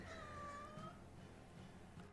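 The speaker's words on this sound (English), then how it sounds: "And my cat is not happy about that fact." A cat meows once, a harmonic cry falling slightly in pitch over a steady background hum, then the sound trails into low noise.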